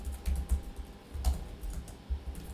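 Fingers tapping on a computer keyboard, a quiet run of light irregular clicks close by, with no voices.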